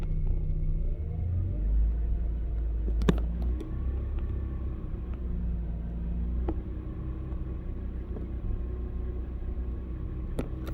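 A car engine idles with a low, steady rumble heard close up, punctuated by a few faint clicks, and no one talks.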